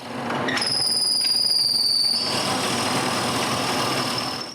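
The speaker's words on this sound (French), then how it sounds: "je perce un gros trou peu profond pour l'écrou" A power drill bores a large shallow hole for a nut in wood for a cabin shutter lock, a loud steady whine that rises into a high pitched bite and then keeps running.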